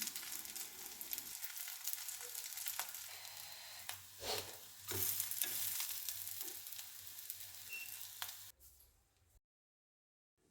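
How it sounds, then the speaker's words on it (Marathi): Sabudana vada frying in a pan with a little oil drizzled over, a close steady sizzle with soft crackling and a few stirring touches, fading out and dropping to silence near the end. "फ्राय करून घेऊया, छान असं भाजून घेऊया."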